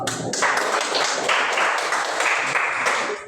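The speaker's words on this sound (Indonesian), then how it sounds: "tepuk tangan untuk Abednego." Schoolchildren in a classroom applaud a classmate, with loud, continuous hand clapping from the whole group, dense and close throughout.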